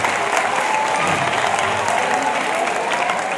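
A school gathering's audience applauds the teachers with steady, loud, dense clapping from many people, continuous and even throughout, with no talking over it.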